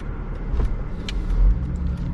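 Cabin drone of a Mercedes-AMG E55 Kompressor while driving: a steady low engine and road rumble with a slight surge, no talk.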